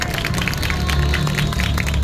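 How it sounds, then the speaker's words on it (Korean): An audience at a talk claps on request, with a brief, steady burst of many hands under a low background hum. "박수 한번 쳐주세요"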